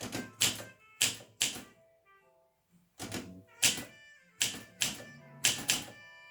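Bursts of mechanical keystrokes from an Olympia SM 2 typewriter, close and crisp, coming in quick clusters of two or three strikes separated by short pauses.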